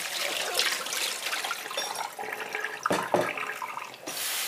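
Tap water gushes and splashes while the soaking water for soba noodles is changed, a steady close pour with sloshing bursts and a brief lull before the stream picks up again.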